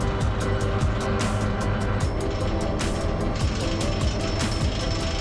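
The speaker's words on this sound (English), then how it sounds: "the potatoes are being planted using a Fendt 828 and Medema CP42 rotavator and cup planter" A Fendt 828 tractor working a field with a Medema CP42 rotavator and cup planter, planting potatoes, gives a steady, loud engine drone with a rapid mechanical clatter running throughout. No voices are heard.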